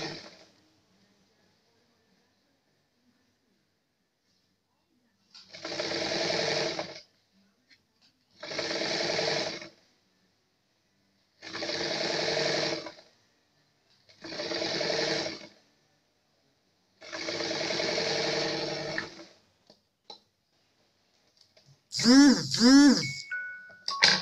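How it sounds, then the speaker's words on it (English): A sewing machine stitches a dress lining in five separate bursts of a few seconds each, with quiet pauses between runs, followed by a short metallic squeal near the end. "So right now I'm sewing the lining."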